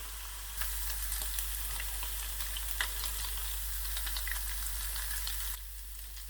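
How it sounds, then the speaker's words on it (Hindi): Garlic frying in a pan for a kadahi dish crackles in a steady, fairly quiet sizzle under a low hum, with small pops scattered throughout and no voices. "दो तीन मिनट के लिए ऐसे ही मैं लहसुन को पकाकर इसका कच्चापन अच्छी तरह से दूर करूँगा"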